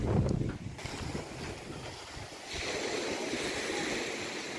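Sea waves washing onto the shore at a beach in Barangay Nato, Sagñay, Camarines Sur, just after a typhoon, a steady broadband surf rush with wind noise across the microphone, louder and fuller in the second half, no talking.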